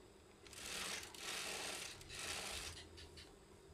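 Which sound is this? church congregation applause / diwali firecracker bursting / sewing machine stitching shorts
sewing machine stitching shorts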